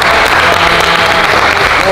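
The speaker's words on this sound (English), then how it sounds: "let's give him another round of applause" Loud, steady applause from a gym crowd for a 70 kg lifter's first-ever deadlift attempt in a strength competition, dense and continuous with voices mixed in underneath.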